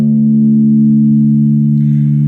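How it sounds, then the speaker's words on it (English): Single low guitar note from the sixth string tuned down to drop D, loud and close, sustained steadily for a couple of seconds. "we have to tune our guitar down into drop D, so your 6th string should sound like this."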